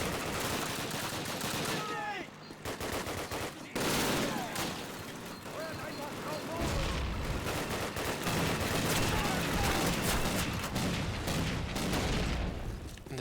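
Rapid gunfire and heavy tank cannon booms fill a World War II battle in a video game, dense bursts and shots overlapping continuously with a player voice talking over the din.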